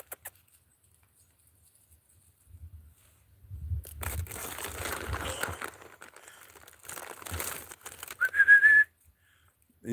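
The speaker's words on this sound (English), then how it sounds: "Can't get my whistle out." Rustling and crunching footsteps outdoors are followed by a single short, high whistle blast near the end, loud and close.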